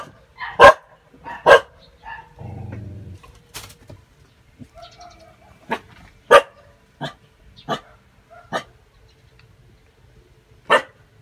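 Guard dog barks repeatedly at irregular intervals, some barks loud and close, others softer, while a pigeon coos faintly in the background.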